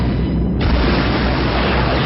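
Fighters' laser fire blows up transports on landing pads, a loud, dense, continuous booming roar of explosions with deep rumbling that fills the whole moment.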